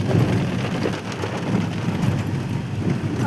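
Steady rain falls on trees growing over dark rocks at a hillside viewpoint in Daringbari, a constant close hiss of drops with no voices.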